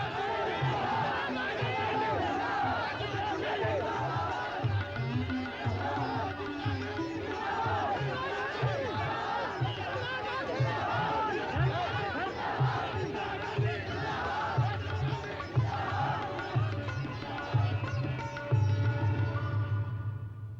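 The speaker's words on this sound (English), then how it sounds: "At the end of a long day in the heat and dust of Amethi, the enthusiasm of a crowd gets out of hand" An excited crowd in Amethi, hot and dusty, grows unruly: dense shouting and chanting voices with rhythmic cries, continuous and fairly loud, occasionally swelling throughout.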